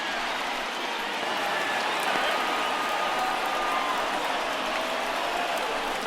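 A baseball stadium crowd of more than 37,000 at a Yankees versus Red Sox game roars steadily, a dense, sustained wash of cheering that holds at one level throughout.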